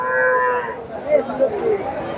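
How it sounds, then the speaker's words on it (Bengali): A Friesian bull lows at a cattle market in Bogura, a few short moos rising and falling close by, with faint crowd murmur in the background. "ফ্রিজিয়ান ষাঁড়,"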